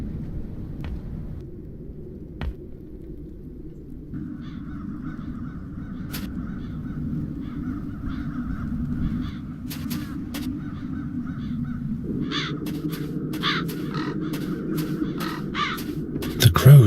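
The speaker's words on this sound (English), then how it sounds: "Now those ghastly crows only need to touch it." Crows caw repeatedly in The Dark Eye: Chains of Satinav, scattered harsh calls growing busier toward the end over a low ambient rumble of the game scene.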